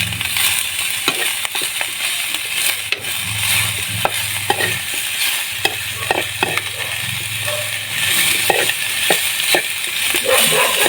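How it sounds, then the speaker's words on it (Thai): Edible onion flower stalks stir-fried in a pan give a continuous sizzle with repeated sharp scraping and clacking of the spatula, close and fairly loud, with no talking. "ผัดไปสักพักไม่ต้องผัดนานมากหรอกครับ"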